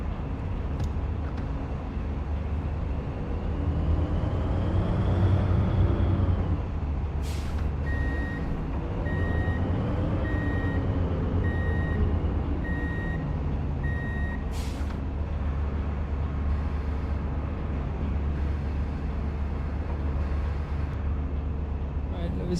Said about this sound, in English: so let's start up the truck